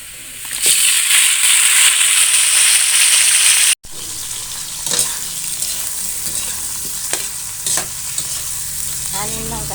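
Eggs dropped into a pan of adobo set off a loud, steady hiss of sizzling. A sharp cut follows, then quieter frying with stirring and scraping of the pan, close up.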